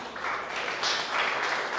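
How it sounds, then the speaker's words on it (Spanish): A church congregation applauding during a Spanish-language sermon, a short burst of dense clapping from many hands heard from within the room, with faint voices underneath. "Dale un aplauso a Dios por eso."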